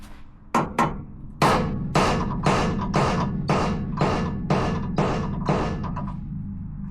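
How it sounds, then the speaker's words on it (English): Repeated metal hammer blows on a Land Rover Defender radius arm bar, driven through a nut to protect the screw; about ten loud, evenly spaced ringing strikes, close by, with no talk. "I will do a little hammering here, but using the nut inside so that I don't damage the screw"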